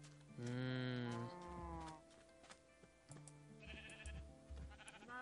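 Cows on a video game farm moo in long, drawn-out tones, with one loud call up front followed by quieter overlapping moos and bleat-like cries, and no talk in between.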